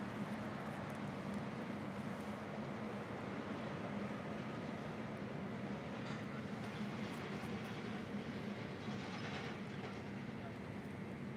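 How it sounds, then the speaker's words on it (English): A Korean Air Cargo Boeing 777 heavy freighter touching down on runway 25L at LAX after a flight from Lima, Peru, as a steady, loud broadband roar of engines and rushing air that continues unbroken, with no voices. "Korean Air Cargo 777 coming in from Lima, Peru, touching down here on the south side on 25 left"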